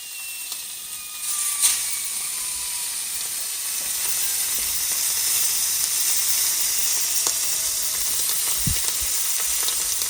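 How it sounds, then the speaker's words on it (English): A loud, continuous sizzle of steaks searing in a hot pan after coming out of the oven, with a brief clatter near the start and a few faint clicks. "Steaks just came out of the oven, and now we're going to sear them in a moment."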